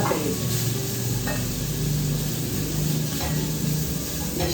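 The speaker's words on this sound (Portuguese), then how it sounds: "Estou aqui fritando a calabresa" Calabresa sausage frying in a pan after bacon, a steady close sizzle with faint scraping as it is stirred, no talking.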